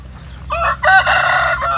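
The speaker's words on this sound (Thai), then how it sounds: "นี่เป็นพ่อพันธุ์ไก่นะครับ ที่เรา ขังแยกไว้ต่างหาก" A native Thai breeding rooster, penned separately on a farm in Sisaket, crows loudly nearby, a long drawn-out call in several segments, with a low rumbling background beneath it.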